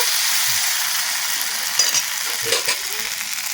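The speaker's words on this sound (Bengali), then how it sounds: "তাওয়াটা গরম হয়ে গেছে এক হাতা ব্যাটার প্রথমে দিয়ে দেব" Rice batter for chitoi pitha sizzles on a hot griddle, giving a continuous frying hiss with a few small crackles and scrapes; no talking.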